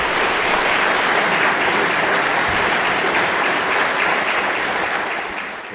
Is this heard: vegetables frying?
no